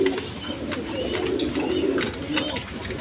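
Indian Bombay pigeons coo steadily in a low, rolling murmur, a continuous layered cooing from several birds close by with no talk.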